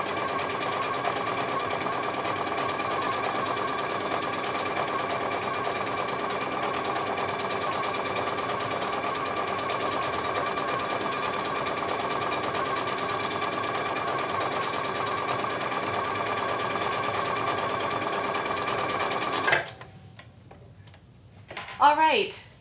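A sewing machine stitches decorative stitches at a 3.0 stitch width on a fabric bag, giving a steady, even whir for about nineteen seconds before stopping, followed by a few faint, brief sounds.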